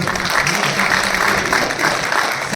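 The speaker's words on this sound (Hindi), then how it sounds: "डायरेक्टर सर मनीष जी त्रिवेदी को एक बार जोरदार तालियां" Loud, dense audience applause for a director at a school event, sustained and even before cutting off abruptly.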